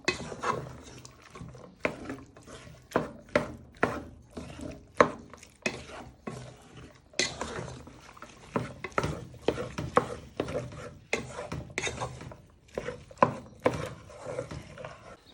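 Beef in black bean sauce stirred around a pan with a utensil, scraping stuck bits off the bottom: a steady run of sharp scrapes and knocks with faint sizzling underneath, close and fairly quiet, no talking.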